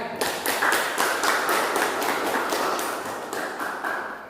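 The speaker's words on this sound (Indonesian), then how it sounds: "Kita kasih tepuk tangan ya" A classroom audience of teachers claps together, a moderate, fairly sparse patter of individual hand claps with audible separate strikes, gradually thinning toward the end.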